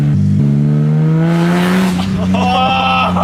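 A BMW E30 with a swapped S54 engine and a loose exhaust pulls away, its engine note rising loud and close as it revs through a gear, while excited voices talk over it.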